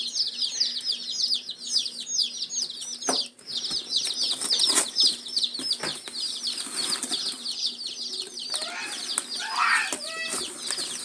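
Baby chicks crammed in a shipping box, peeping in a dense, continuous high-pitched chorus at close range, with scattered rustling and bumps as the box is handled.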